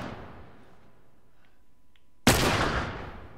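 Gunfire in the video game The Last of Us Remastered: a single loud, sharp shot bursts in after a quiet stretch of faint game ambience, then decays in a long echoing tail.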